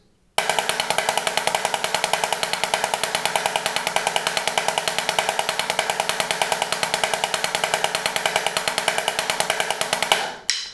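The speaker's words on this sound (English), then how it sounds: "today we're going to cover the triple stroke roll" A rapid, even snare drum roll of triple strokes, dense and continuous for about ten seconds before stopping abruptly.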